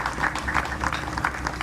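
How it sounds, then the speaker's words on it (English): Audience applause for veterans' families at a Veterans Day speech, a brief, moderately loud patter of clapping from a gathered crowd. "So a big round of applause for the family as well."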